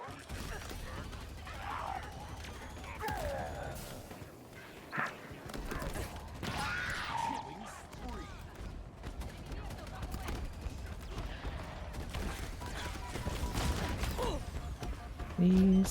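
Explosions and gunfire in Halo Infinite, a busy mix of bursts and impacts rising and falling over several seconds, with a voice talking intermittently above the combat.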